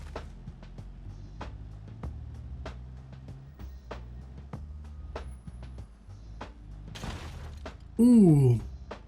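Car door breaking off in a crash in the BeamNG driving game: sudden loud crunching burst near the end, after a quiet stretch of engine hum and scattered light knocks.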